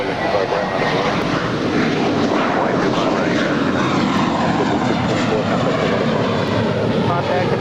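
A JetBlue airliner bound for New York powers down runway 25 right at Los Angeles International, its engines a loud continuous roar that fills the scene without letting up.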